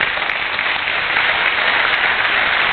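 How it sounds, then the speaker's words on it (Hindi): Seminar audience applauding standing homemakers at a business-ownership talk: loud, dense, continuous clapping from many hands that fills the whole clip without a break. "मैं चाहती हूँ इनके लिए बहुत जोरदार तालियां हो"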